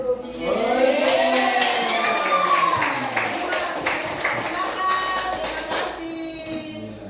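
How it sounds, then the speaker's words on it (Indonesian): Classroom audience of students applauding three groups, steady clapping mixed with loud cheering voices throughout, fading slightly near the end. "Tepuk tangan sekali lagi untuk ketiga kelompok kita."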